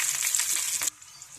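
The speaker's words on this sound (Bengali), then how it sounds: "পেঁয়াজ ক্যাপসিকাম ভাজা একটা গন্ধ বেরিয়ে গেছে," Onion and chopped capsicum frying in a pan give a bright, close sizzle that lasts under a second before cutting off to near quiet.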